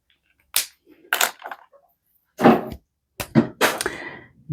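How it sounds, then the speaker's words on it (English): A young cat knocks over stamped greeting cards, making a handful of sharp, close clacks and thumps in separate bursts with silence between them. "that is my young cat who likes to climb on everything, and he's knocking over my cards right now."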